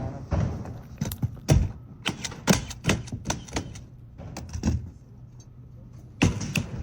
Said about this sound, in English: Pounding that nail in.